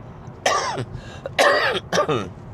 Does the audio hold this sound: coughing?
yes